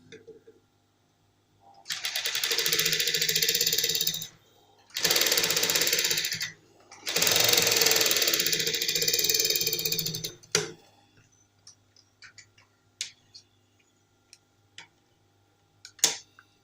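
Sewing machine stitching a trouser pocket, three close bursts of rapid mechanical whirring split by short pauses, then a few scattered faint clicks.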